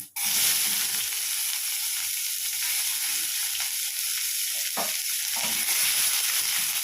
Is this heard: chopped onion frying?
yes